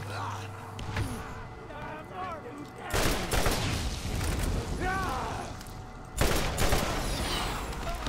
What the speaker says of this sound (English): something is shooting rockets